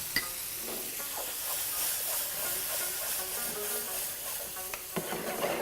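Yogurt being stirred into gravy in a hot pan, giving a soft, continuous sizzle and hiss with occasional light scrapes and clinks of the spoon, fairly faint.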